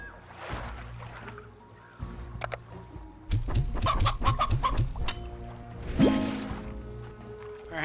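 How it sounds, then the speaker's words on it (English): Briar hen clucking in the video game Slime Rancher, a run of short, close clucks bunched in the middle of the clip over game music and ambience, with another burst near the end. "Oh, look, a briar hen."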